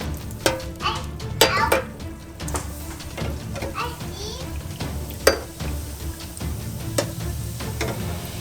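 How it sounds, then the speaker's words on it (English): Homemade plain donut dough pieces frying in deep fryer oil in a home kitchen, with steady sizzling and a few sharp clatters of utensils, while adults and children talk nearby. "now we're going to put them in the oil, one at a time"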